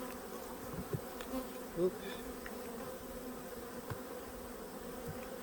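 Honey bees hum in a dense, steady drone around an open hive during a late-August inspection, close and continuous, with occasional soft knocks of frames and a brief word from the beekeeper.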